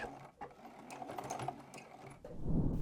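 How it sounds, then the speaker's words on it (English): A sewing machine runs steadily, stitching back over the starting stitches to lock them while finishing a small tote made from fat quarters; a close, quiet mechanical whir with slight variations that grows louder near the end. "I'm just going to go over them with a couple of stitches to lock them in."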